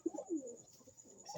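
Pigeons kept by a fancier coo in a low, soft series of rounded calls, close by and fairly quiet, with no talking.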